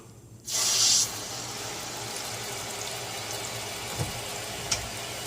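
Water gushes from a newly installed under-sink filter faucet with a sudden burst, then settles into a steady, close hissing flow with a couple of faint knocks.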